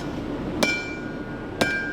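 Two sharp ringing hammer blows on a hot steel bar at the anvil during knife forging, spaced about a second apart over a low steady hum.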